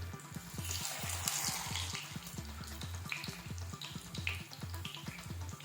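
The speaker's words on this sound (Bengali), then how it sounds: "গ্যাসের স্টিমটাকে লো টু মিডিয়ামে রেখে টিক্কাগুলোকে ফ্রাই করতে হবে।" Aloo tikka potato patties fry in a pan over low to medium heat, giving a steady close bubbling sizzle with a regular pulsing rhythm throughout.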